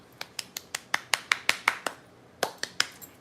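Hands clapping in a quiet room: a run of about a dozen crisp, fairly faint claps at a steady pace, a brief pause, then a few more, with no talk.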